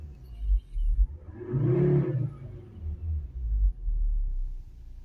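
A car engine idles with a low throbbing rumble, then revs up into a swelling roar that peaks and falls back, followed by lighter blips of the throttle.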